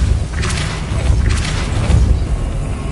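The Depulso spell cast in Hogwarts Legacy, two whooshing bursts close together, each with a deep thump, loud and close over a low rumbling background.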